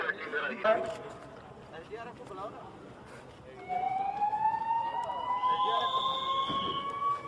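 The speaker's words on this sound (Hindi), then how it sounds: "और ये देखिए एम्बुलेंस का शोर" An ambulance siren wails with a rising and falling tone over a crowd and voices, loud and close in the second half.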